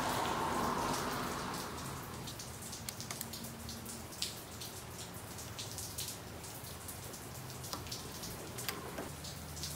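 Steady rain falling in the Phoenix desert, a fine continuous patter with scattered individual drops and drips tapping nearby surfaces, moderately close and fairly quiet throughout with no talking.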